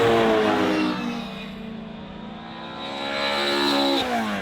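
Formula 4 single-seater race cars roar off together at a race start, a loud dense wall of revving engines rising in pitch through the gears, dipping briefly then swelling again as the pack accelerates close by.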